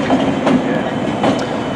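Union Pacific locomotives in a rail yard give off a steady diesel rumble with a couple of brief surges, a short, fairly loud stretch without voices.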